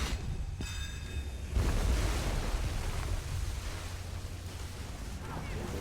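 Water wave attack surging and splashing in a multiplayer video game raid, a broad rushing wash of water swelling loudly after a brief lull and roaring steadily to the end, with a faint voice at the very start.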